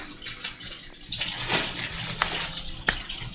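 Water runs steadily from a tap into a sink, a continuous splashing gush with a few louder clanks and spikes, no talking.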